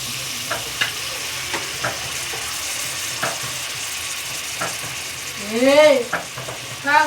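Mutton sizzling and frying in a curry pan, with steady crackle throughout and repeated scrapes of a spoon stirring the meat, louder stirring strokes near the end.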